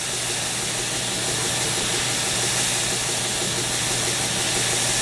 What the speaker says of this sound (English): So if you got a belt sander